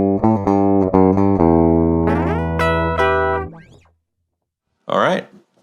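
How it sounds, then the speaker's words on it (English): Clean, unprocessed direct signal from an electric guitar with a single humbucker, played alone: a few plucked notes, then strummed chords that ring and fade, a brief pause and one last short strum. "We're going to start off with just the DI signal for this guitar."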